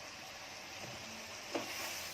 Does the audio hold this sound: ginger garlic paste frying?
yes